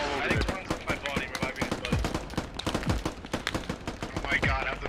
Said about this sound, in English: Oh my god, have them stop shooting